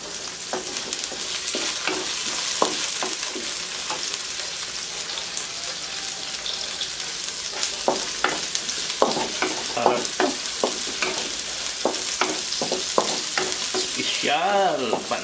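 Garlic frying and being stirred in a wok for pancit canton guisado: a steady close sizzle with repeated scraping, clacking spatula strokes throughout, loud and without talk.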